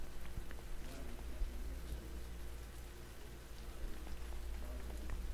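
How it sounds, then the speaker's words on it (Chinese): Steady rain falling in the video game Dragon Nest, a continuous soft patter of drops on surfaces with a low ambient hum underneath, even and unbroken throughout. "然而我们还在下雨啊。"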